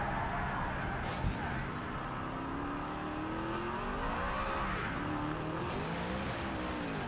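Hennessey Venom F5 hypercar engine in Project Cars 3, a steady loud drone with rising and falling revs as it runs continuously on track, with brief tire noise over gravel.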